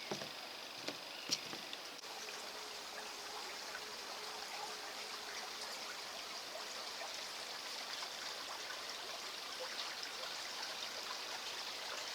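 A river runs steadily beneath a bridge on a countryside walk, a continuous soft rushing wash with a few faint taps near the start, even and moderately distant throughout.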